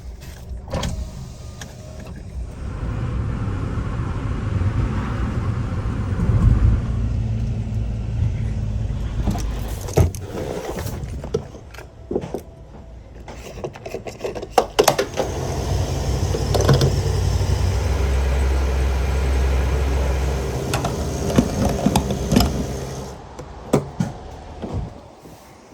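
A tiny car drives along roads on the French Riviera, heard from inside as a steady low engine and road rumble with occasional knocks and rattles throughout.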